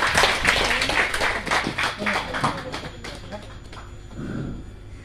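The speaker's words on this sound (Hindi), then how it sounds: "वेरी गुड, जोरदार तालियां मैडम के लिए।" Applause at a company launch event in Amravati, crowd clapping that starts loud and gradually thins and fades, with voices talking over it.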